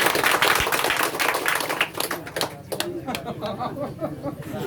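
An audience at an open public meeting in Thariya claps to welcome people onto the stage: a loud burst of many hands that thins into scattered, uneven claps and then fades, with voices talking under it.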